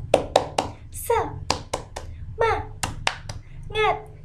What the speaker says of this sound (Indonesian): mari bersama-sama kita tepuk semangat terlebih dahulu